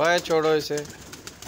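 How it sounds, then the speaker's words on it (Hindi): Pigeons coo inside a home pigeon house, their soft calls partly masked by a voice and other talk nearby. "ये आ गए हैं जी बलाज के कबूतर"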